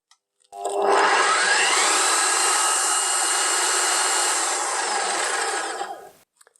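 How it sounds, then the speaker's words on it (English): A drill press drives a long, cheap, slightly bent bit into reclaimed wood, giving one loud, steady grinding whir with wobbling chatter that starts abruptly, holds for about five seconds and cuts off with no talk. "with such a long drill bit, and to be honest, quite a cheap one, it's not perfectly straight"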